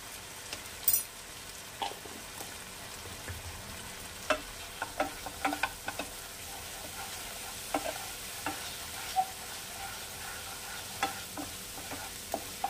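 Ground spices with chili powder fry in a pan over a low flame, a soft steady sizzle broken by scattered scrapes and taps of a spoon stirring, quiet and close with no talking.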